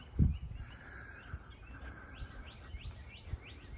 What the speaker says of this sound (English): I asked the birds to come to drown out the car noise, and they definitely came